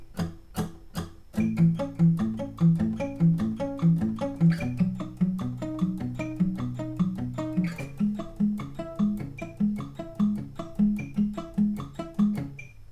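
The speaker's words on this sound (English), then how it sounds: "Altogether, the second variation will sound something like this." Guitar playing a repeating picking pattern on a second variation, steady rhythmic arpeggiated plucks over sustained chords for about thirteen seconds, close and solo with no voice.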